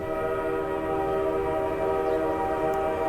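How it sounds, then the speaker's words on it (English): A train horn in the Garry's Mod video game blares as one steady, loud, sustained chord with low rumble underneath, unbroken for the whole span and no voices. "That was just a train horn."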